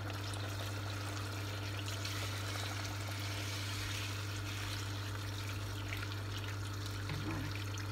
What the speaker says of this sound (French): ونمرق au moins 1 litre d'eau chaude